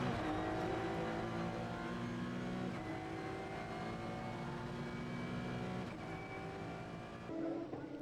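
Touring race cars of the French SuperTourisme championship racing on the Formula 1 French Grand Prix circuit, engines holding sustained high whining tones that shift with gear changes, heard from a distance and fairly faint.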